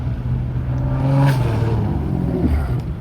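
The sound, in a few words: cars pulling up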